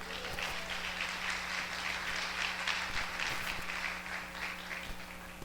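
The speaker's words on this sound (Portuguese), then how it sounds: "Quem pode glorificar o Senhor com a salva de palmas?" A church congregation claps in praise, a sustained round of applause across the room with a low steady hum beneath it and no speech.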